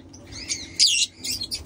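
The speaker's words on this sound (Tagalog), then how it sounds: "Ito yung mga ibon natin, no." Pet birds in breeding cages chirping nearby, a few short bright tweets and a louder burst in quick succession.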